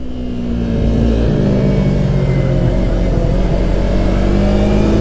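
A Mini Rip race motorcycle on its out lap in practice, engine still cold and bucking: a loud, close onboard engine drone that rises steadily as the bike pulls away, then holds a sustained note.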